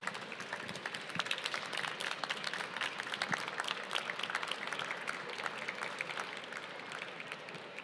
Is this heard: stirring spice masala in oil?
no